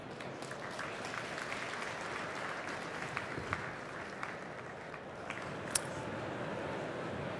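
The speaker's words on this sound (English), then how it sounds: "So give a warm round of applause to Cedric." Audience applause for a speaker taking the stage at a startup conference semifinal, a steady dense clapping from a large crowd, loud and continuous throughout with no talk over it.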